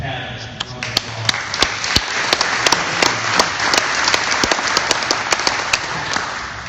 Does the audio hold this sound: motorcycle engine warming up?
no